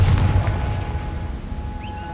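A Confringo blasting spell explodes in Hogwarts Legacy, a deep booming burst at the start that rumbles and fades over about two seconds, with faint magical ambience trailing after.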